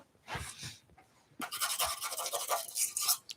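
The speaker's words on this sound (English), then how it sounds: "It's a toothbrush." A toothbrush is scrubbed against a turned wooden goblet at the lathe: a couple of short, close brushing strokes, a brief pause, then a longer run of rapid, sustained scrubbing.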